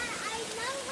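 Steady rushing water from a large creek flowing close by, a continuous broadband wash with no distinct splashes.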